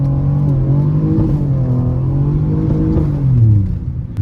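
Inside the cabin of a twin-turbo all-wheel-drive Ford Taurus SHO driving in snow, the engine drones and rises in pitch as it accelerates, then climbs sharply near the end before dropping off. No one speaks.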